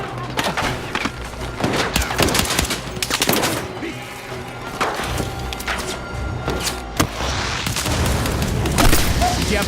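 Battlefield 6 combat fills the scene with loud, dense gunfire: sharp booming shotgun blasts and explosions crack repeatedly over a continuous rumble of battle, with faint voices mixed in.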